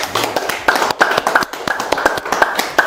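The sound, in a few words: audience applause welcoming speaker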